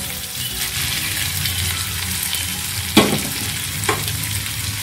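Noodles with vegetables stir-fry in a hot pan with a steady close sizzle, and two sharp scraping clanks of the utensil stand out near the end.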